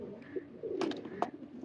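Pigeons of a high-flying breed coo in short, soft bursts, with a few brighter flutters and a sharp tap near the end, all close by and fairly quiet.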